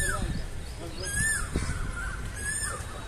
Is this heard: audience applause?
no